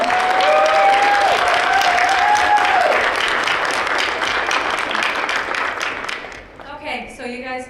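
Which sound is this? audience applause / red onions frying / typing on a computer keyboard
audience applause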